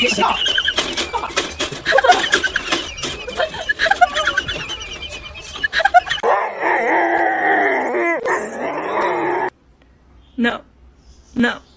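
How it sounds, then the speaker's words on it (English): A pet dog howls and whimpers loudly up close, with yips and whines in an uneven run that gives way to a long sustained howl, then a pause and a few short final cries; people talk nearby. "My damn dog."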